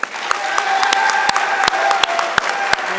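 Audience applause at a high school senior scholarship ceremony, a steady wash of many hands clapping with sharper individual claps standing out, moderately loud and continuous throughout.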